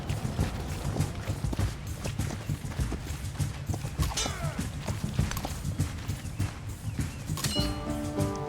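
Horse hooves clip-clop in Civilization 7, a fast, steady run of hoofbeats close up, with a short whinny near the end.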